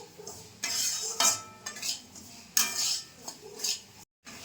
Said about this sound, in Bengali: একটু নাড়াচাড়া করে বাজিয়ে নেবো সুজির সাথে